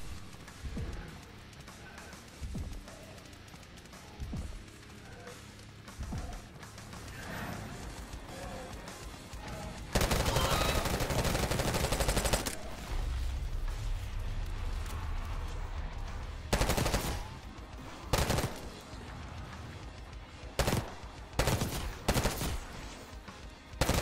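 Call of Duty Black Ops 6 campaign combat brings scattered single shots early on, then a long, dense burst of automatic fire and several more loud bursts and shots, close and sharp, with no talk.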